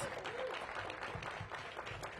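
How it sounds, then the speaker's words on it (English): An audience applauds for Tiana at a mayoral event kicking off the conversion of Spingarn High School, a faint, distant wash of steady clapping. "Let's give Tiana another big round of applause."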